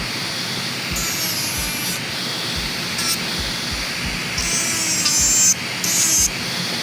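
A dental tool grinds and carves a resin temporary tooth, giving a steady loud abrasive rasp over a constant whirring drone, with a brighter grinding tone rising in short stretches.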